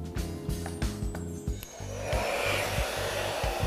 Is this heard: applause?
no